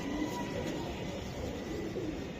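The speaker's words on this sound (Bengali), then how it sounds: "বাবা রে বাবা, শক্তিশালী কবুতর" A racing pigeon coos softly and low under a constant background hum, faint and close, with no voices.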